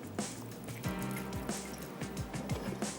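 A quarter cup of water is poured into a hot cooking pan of achari paneer, giving a short burst of splashing, gurgling liquid with a rising filling tone, close and fairly quiet.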